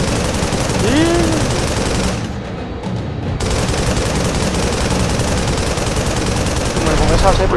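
Sustained automatic gunfire in the mech combat video game Project Nimbus, a dense continuous rattle of shots that briefly drops out near the middle before resuming, with game sound effects layered over it.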